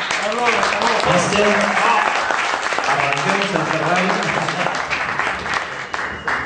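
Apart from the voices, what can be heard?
audience applause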